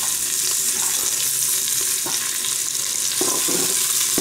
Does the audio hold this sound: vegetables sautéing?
yes